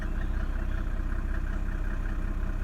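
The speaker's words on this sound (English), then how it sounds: "A Mercedes diesel that cranks without a proper glow is a sign of a good" A 1995 Mercedes-Benz E300 with an OM606 diesel runs with an even, steady rumbling idle, loud and close with a constant mechanical clatter and no voices.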